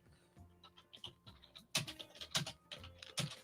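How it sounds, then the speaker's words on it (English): Quick bursts of keystrokes on a computer keyboard while someone enters a quiz answer, with soft irregular clicks building to a few louder, denser flurries near the mic. "I'm typing in the answer here."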